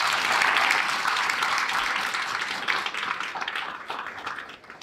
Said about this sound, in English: let's give our great panel a round of applause